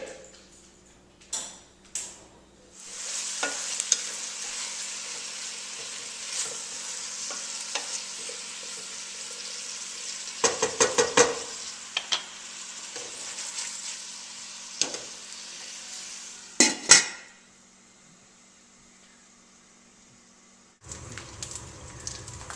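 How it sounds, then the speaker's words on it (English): Onions and celery cooking in a pot for clam chowder, a steady moderate sizzle broken by several clattering stirs and lid knocks, ending in a brief louder clank, with no speech. "Here are the onions and the celery. They cooked for about 7 minutes. I've stirred several times."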